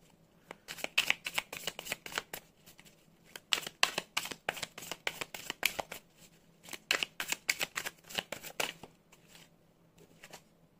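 Tarot cards being riffled and shuffled by hand, close and crisp, in three quick bursts of rapid flicking clicks separated by short pauses, with no voice over it.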